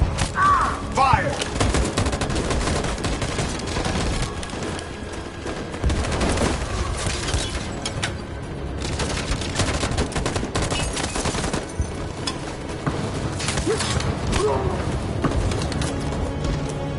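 Gunfire in the video game Detroit: Become Human, a dense sustained fusillade of overlapping shots running throughout, loud and busy, with a voice briefly audible in the mix.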